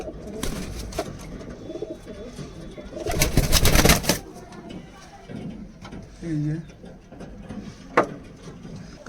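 Kalduma pigeons, a large-bodied domestic breed, coo softly in the background while a loud rustling burst of wings or movement passes midway and a brief knock sounds near the end.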